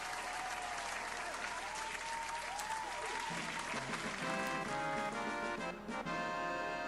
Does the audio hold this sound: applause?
yes